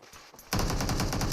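Rapid automatic gunfire erupts in a shooter video game, a loud, dense, even burst of shots starting after a brief quieter lead-in and continuing to the end.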